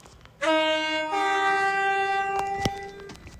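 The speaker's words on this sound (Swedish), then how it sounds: "vi kan köra från Pentondepån till Stepford Central. Med klass 379 Waterline Tåg." A class 379 Waterline train in the Roblox game Stepford County Railway sounds a loud, sustained two-tone horn blast lasting about three seconds, followed by a sharp click near the end, with no talking.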